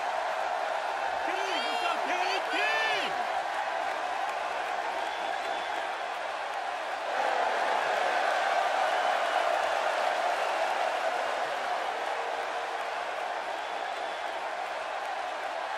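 Arena crowd in the wrestling game WWE 2K16 at a Survivor Series match, a steady roar of a capacity crowd that swells midway, with a voice briefly heard over it.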